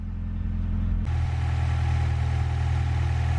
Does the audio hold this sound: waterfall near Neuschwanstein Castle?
no